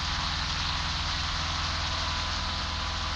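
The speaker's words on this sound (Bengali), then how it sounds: "বৃষ্টি হচ্ছে বজ্রপাত সহকারে" Steady, dense rain hisses evenly throughout a rainy scene in the Bus Simulator Indonesia video game, with no clear thunderclap standing out and no voices.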